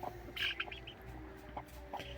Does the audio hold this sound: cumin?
no